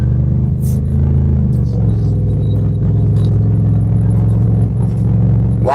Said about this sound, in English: Driving down a dirt road.